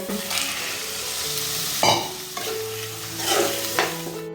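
Field beans (birde) being stir-fried in an oily ground masala paste for traditional Konkan-style walache birde, with a steady sizzle and a few louder scraping stirs of the spoon against the pan.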